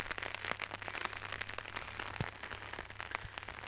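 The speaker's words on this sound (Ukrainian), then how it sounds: "Бо дощ такий гарненький, але все рівно трішки захищає." Gentle rain falling outdoors in a yard, a soft, steady patter with scattered faint drips, quiet and without voices.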